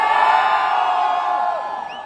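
A concert crowd in Delhi screams and cheers in one loud, sustained roar that fills the whole moment, fading slightly toward the end with no voice speaking over it.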